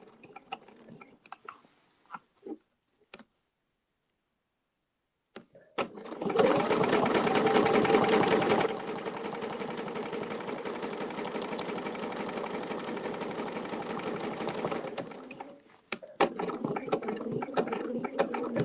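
Sewing machine stitching a quilt, a steady loud mechanical whir running for about ten seconds that changes pitch partway through, with scattered handling clicks and brief talk before and after.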